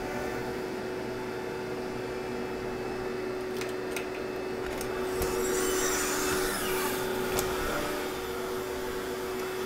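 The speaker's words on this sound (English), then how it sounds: "So first it's gonna drill two holes and then back out of the way." Steady whirring motor hum of a CNC router running throughout, with a few sharp high clicks and brief bursts of cutting noise as it drills holes into material.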